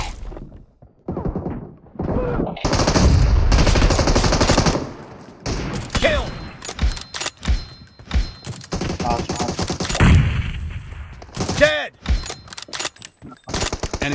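Bursts of automatic gunfire and rapid shots in a PUBG Mobile team deathmatch, loud and dense at first, then in scattered volleys and single cracks. In-game voice callouts come between the shots.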